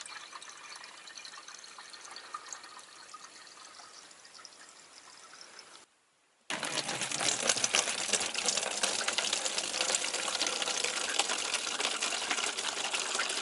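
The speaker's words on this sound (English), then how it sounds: "we've got to drain the fresh water out of the system" Fresh water drains from a yacht's engine cooling system, rushing and splashing steadily, pausing briefly to near silence, then returning louder as a heavy, continuous hiss of draining flow.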